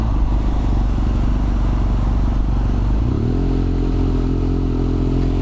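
BMW F800R motorcycle engine under way, upshifting with a quickshifter, a loud continuous engine drone with a clear pitch change partway through as it shifts, heard close with wind noise.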